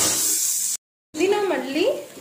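Masala with mint and coriander leaves sizzles loudly in a pan for mutton biryani while it is stirred, a close, hissing fry broken by a short silence before scraping and sizzling resume.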